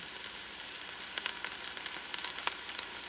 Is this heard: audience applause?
no